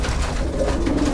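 Pigeons cooing close by, a continuous low throaty burble filling the short moment, loud with no talking.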